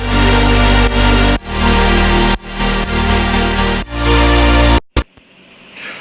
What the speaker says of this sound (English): So the stack all together is going to sound like this